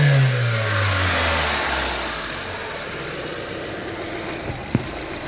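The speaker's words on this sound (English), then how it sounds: "So you give it a rev" A Mitsubishi Lancer engine revs up once with a falling engine note, then settles toward idle, close and steady, with a sharp click near the end.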